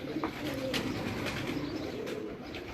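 Pigeons coo softly over a steady, noisy outdoor background, the low calls repeating a few times at a moderate distance.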